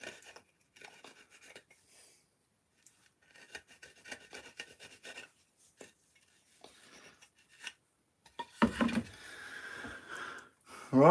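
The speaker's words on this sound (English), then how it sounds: "Just need sanding inside" Hand sanding inside a wood carving, giving soft intermittent rasping strokes in short bursts, quiet at first and then growing louder and denser toward the end, close by with no talking.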